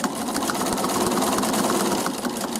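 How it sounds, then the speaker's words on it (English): Sewing machine running steadily and loudly up close, stitching binding onto a quilt with a fast, continuous mechanical whir and rapid needle clatter. "I'm going to stitch and stop with my needle right in that chalked line"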